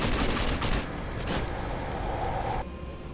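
First-person shooter gunfire in Rage: dense, loud bursts of weapon fire and blasts blending into a rough roar that fades toward the end, with no talk.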